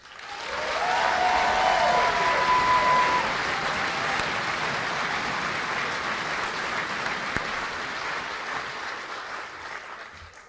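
Sustained applause from a large audience at a military basic training graduation swells quickly, holds steady, then slowly tapers off over several seconds.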